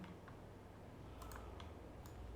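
Sparse, faint keystrokes on a computer keyboard tick out a few separate clicks over a quiet room hum, with no voices.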